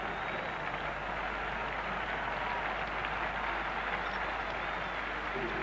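A cricket crowd at a one-day cup final gives a sustained standing ovation, steady dense clapping and crowd noise filling the whole stretch at an even level.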